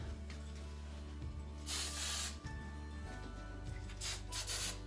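Short bursts of aerosol hair spray hiss close up, a couple of sprays separated by brief pauses over a low steady hum.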